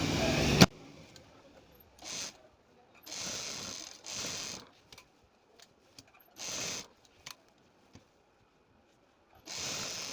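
A sewing machine stitches sleeve fabric in several short bursts of whirring, separated by quiet pauses and small handling clicks.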